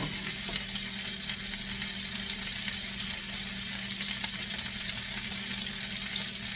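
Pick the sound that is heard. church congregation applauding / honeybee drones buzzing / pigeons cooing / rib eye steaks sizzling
rib eye steaks sizzling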